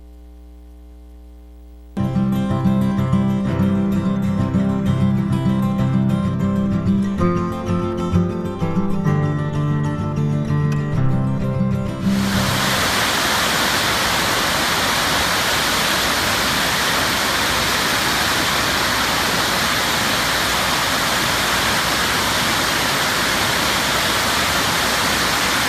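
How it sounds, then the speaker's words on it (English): Flowing water in a small park stream, heard as a steady broadband rush that starts abruptly partway through, following a stretch of tonal music, and continues evenly and fairly loud to the end. "I will show you this water actually moving"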